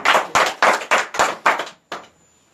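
A few people clap together in a series of about six sharp, evenly spaced bursts, close and loud, followed by a final lone clap and quiet.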